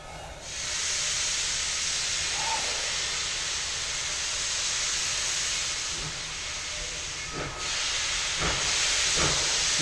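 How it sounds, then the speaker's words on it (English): Locomotive 190, the Yukon Queen, a steam engine on the Tweetsie Railroad in Boone, NC, crosses Dead Horse Trestle with a steady, broad hiss of escaping steam and a few faint knocks near the end, heard from nearby. "Tweetsie train crossing over Dead Horse Trestle, the Tweetsie Railroad."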